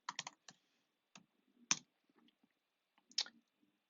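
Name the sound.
typing on a computer keyboard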